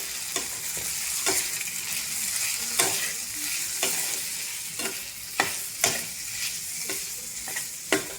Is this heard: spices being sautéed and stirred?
yes